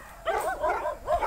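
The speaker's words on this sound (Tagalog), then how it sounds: "Patawal dagiti aso." Dogs bark repeatedly in an Ilocano drama scene, several quick close barks and yelps in a short burst, loud and clear against a faint background.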